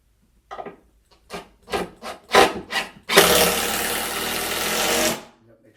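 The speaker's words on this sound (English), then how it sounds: "The drill coming through." Power drill boring through a wooden board while building a vinyl record shelf: several short scraping bursts, then a sustained loud, close grinding run lasting about two seconds before it stops.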